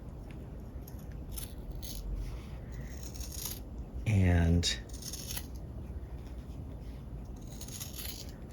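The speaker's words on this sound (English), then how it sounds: "You just take your scissors" Scissors trim a shoulder pad for a garment with a few soft snips and rustles of padding material, close and quiet, with a brief spoken word and a short humming tone in the middle.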